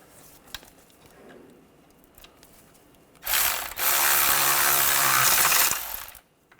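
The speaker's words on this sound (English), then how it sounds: "Tighten those down." A ratchet tightens the nuts on a front passenger-side CV axle of a 2013-2019 Ford Escape 2.0L, with soft clicks and handling noises followed by a loud, sustained whirring burst of about three seconds, close by.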